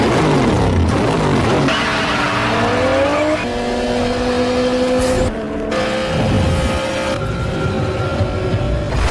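Cars racing in a Fast and Furious film, speeding toward a railway crossing: loud, continuous engine roar with rising revs, tire squeal and passing whooshes layered with dramatic film sound.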